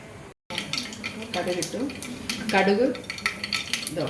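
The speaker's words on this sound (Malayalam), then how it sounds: "ഈ ഉള്ളി ഇടണം." Onions go into hot oil with mustard seeds already popped for a spicy potato curry, giving a close sizzle with stirring and utensil scrapes against the pan.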